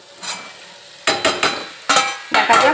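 Half-boiled potatoes in a pan on a gas stove, seasoned with salt and a little ground coriander, giving loud close sizzling with several bursts of stirring and scraping.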